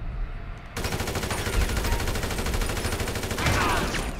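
Rapid automatic gunfire from a gunman in GTA 5, a dense sustained burst of shots starting abruptly after a short quiet lead-in and continuing loud and close for several seconds, with a sharper flurry near the end.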